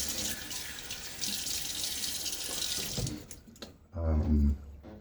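A bathroom sink tap runs in a steady, close stream while water is used to wet a face before shaving, then stops after about three seconds, followed by brief soft handling sounds and a short low murmur.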